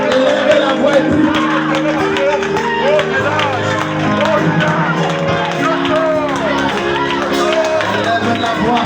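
A church congregation at a Christian worship service shouts and prays aloud together, a dense, loud wash of many overlapping voices and cries over steady music, continuing throughout without pause.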